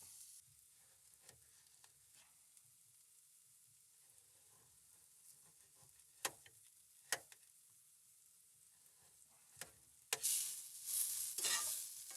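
Onion fries in a pan at a camp in winter storm conditions, a quiet steady sizzle with a few sharp clicks and scrapes, and a louder burst of sizzling near the end as food is moved around.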